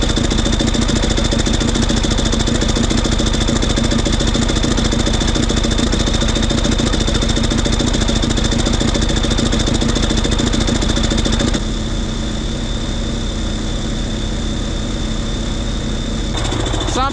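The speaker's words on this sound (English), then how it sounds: "Engine runs pretty good though." A bulldozer's diesel engine with about 800 hours on it runs steadily and loud, with a constant rough mechanical rumble and clatter, dropping a little in level for the last few seconds.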